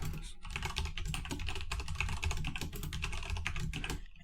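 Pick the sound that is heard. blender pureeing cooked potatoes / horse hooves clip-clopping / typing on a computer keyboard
typing on a computer keyboard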